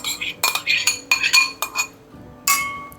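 A metal spoon scoops curd into a tall vessel, making a series of close, bright clinks and scrapes in irregular bursts, with a final clink after a short pause.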